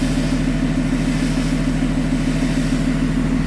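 A 2015 Cummins ISB diesel idling while parked, a steady low rumble with an even throbbing pulse that holds constant and close throughout, with no voices.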